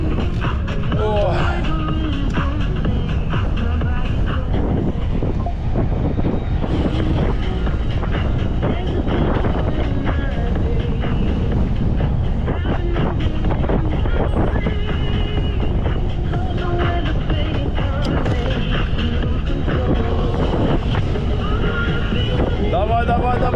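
Strong headwind buffets the microphone on a bike ride in Crimea on a Bosch Gen 4 e-bike, a loud, constant roaring rush throughout, with the rider's voice and panting mixed into it.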